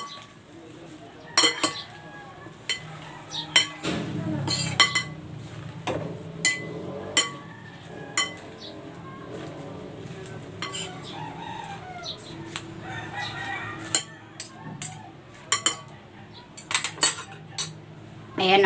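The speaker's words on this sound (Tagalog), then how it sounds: "Haluin na natin." Chicken avocado salad being tossed with dressing in a bowl, with intermittent clinks and scrapes of utensils against the dish, close and fairly quiet, with faint background sounds between strokes.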